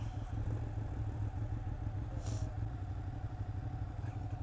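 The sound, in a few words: Ducati 959 Panigale motorcycle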